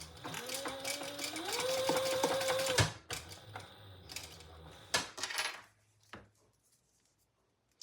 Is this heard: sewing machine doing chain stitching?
yes